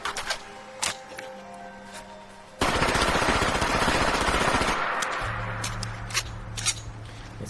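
A SCAR-H rifle firing in a modded Fallout 4, a few single shots followed by a long rapid automatic burst of about two and a half seconds that rings out loud and close, then more scattered shots and clicks.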